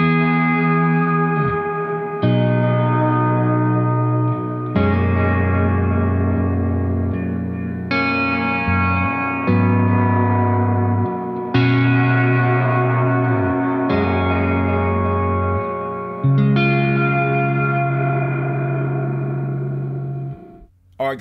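A Game Changer Audio Light Pedal makes reverb from light, sounding as long sustained, heavily washed guitar chords that swell and ring on, with each new strum blooming into a dense echoing tail that fills the space between.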